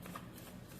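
A short, soft rustle of playing cards being shuffled during a tarot-style spiritual reading, quiet and close, with no voice over it.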